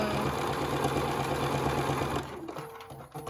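Sewing machine stitching a wristlet strap, a fast steady mechanical whir up close that stops abruptly near the end, followed by faint handling sounds.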